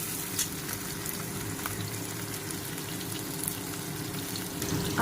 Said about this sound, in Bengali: পেঁয়াজ আর টমেটো কাটা ছিল ওটাকে ফ্রাই করে নিচ্ছি